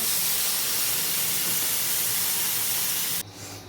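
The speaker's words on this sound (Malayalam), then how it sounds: "ഇനി ഇതിലേക്ക് നമുക്ക് അരപ്പ് ഒഴിച്ചു കൊടുത്ത്" A loud, steady hiss and sizzle of ground coconut paste, made with coriander, chili and turmeric powders, hitting a hot pan of tomatoes for a brinjal curry, continuous for about three seconds, then dropping abruptly to a quieter simmer.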